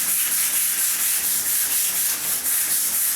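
Steady hissing scrape of a wire brush scrubbing leftover glue mastic off a surface, continuous strokes at close range with a bright, gritty texture and no talk.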